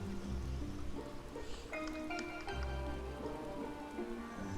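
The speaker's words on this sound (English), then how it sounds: "It's raining." Steady rain falls in Final Fantasy XIV, a continuous wash of patter with a low rumble beneath it and faint tonal game music threaded through.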